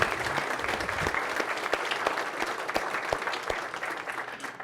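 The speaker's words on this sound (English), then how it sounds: "Let's give them another round of applause for that." An audience at the Mayor's State of the City 2025 event claps in sustained, dense applause, loud and close, with individual sharp claps standing out.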